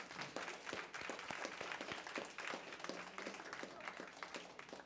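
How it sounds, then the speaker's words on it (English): Scattered clapping from a board meeting audience honors schoolchildren, faint and somewhat distant, with individual claps audible over a thin crowd background. "Clap your hands for them again"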